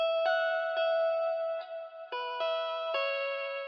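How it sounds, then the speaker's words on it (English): A pitched-up guitar line with washy reverb, odd EQ and a cassette effect giving a slightly lo-fi, warbling tone plays a few plucked notes that ring out. "I added some reverb and some weird EQ and sketch cassette to give it this kind of sound"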